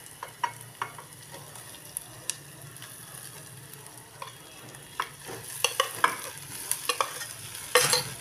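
Potatoes being stirred with ginger and spices in a pan, a spoon scraping and clicking in scattered strokes over a soft, steady sizzle, growing busier toward the end.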